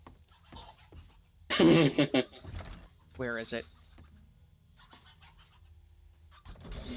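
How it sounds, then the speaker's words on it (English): Chicken clucking in the 7 Days To Die video game, a short burst of harmonic bird-like calls in the middle, with a person talking briefly over the game audio. "I hear a chicken."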